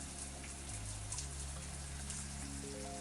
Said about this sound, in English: Next, I take a shower.